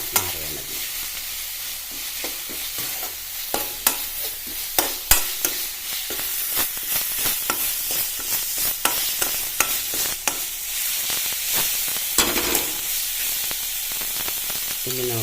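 Onions and spices sauté in a pan for a Kerala vanpayar (cowpea) thoran. A steady low sizzle runs throughout, broken by frequent sharp scrapes and clicks of a spoon stirring against the pan, with no talking.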